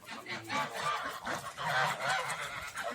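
Village geese and ducks honking together around water, a continuous overlapping chorus of nasal honks and quacks at moderate distance, with no talking.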